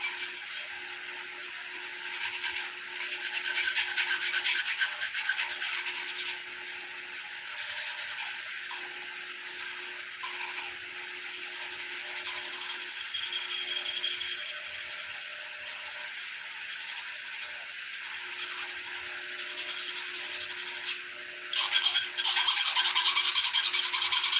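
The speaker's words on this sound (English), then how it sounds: "my handy dandy file thingy-majiggy, and start filing it, it actually come out good." A hand file rasps steadily across a metal inline spinner blade, a continuous close-up scraping that runs with only brief pauses over about twenty seconds.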